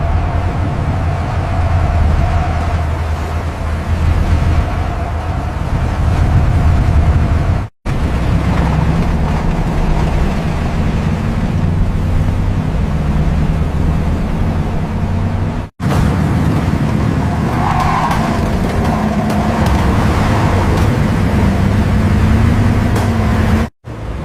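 A convoy of police vehicles drives past in a steady rumble of engines and tyre noise, loud and continuous with low road drone, broken by a few abrupt cuts.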